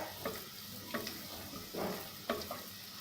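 Garlic sautéing in butter in a home kitchen pan, with a few spoon-stirring scrapes spaced about a second apart over a soft background sizzle, close and fairly quiet, no talking.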